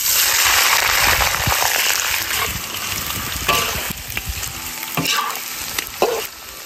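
Pork belly sizzles loudly as it is stir-fried in caramelized rock sugar, a steady hot crackle with occasional scraping stirs in a wok, with no talking.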